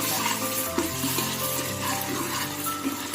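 Ginger garlic paste frying in a pan for plain biryani gives a steady, close sizzle, with occasional scrapes and stirring clinks throughout.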